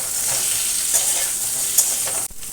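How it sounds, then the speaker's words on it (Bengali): Eggplant pieces fry lightly in a pan with already-fried potatoes and taro, giving a loud, continuous sizzle with light stirring scrapes, cut briefly near the end. "এবার এতে দিয়ে দিচ্ছি বেগুনটা বেশি ভাজবো না"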